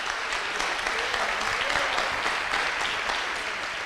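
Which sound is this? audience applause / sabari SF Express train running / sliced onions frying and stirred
audience applause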